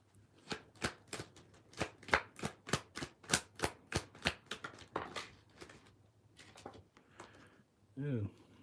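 Tarot cards shuffled in a quick run of about twenty crisp riffling snaps, close and fairly loud, followed by softer card handling and a brief voice at the end.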